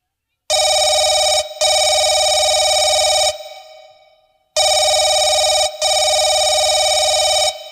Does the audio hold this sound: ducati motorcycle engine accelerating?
no